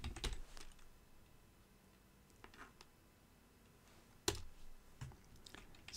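Computer keyboard typing while renaming bones in Blender, with a burst of clicky keystrokes at the start, a quiet stretch with a few scattered taps, then another quick run of keys near the end.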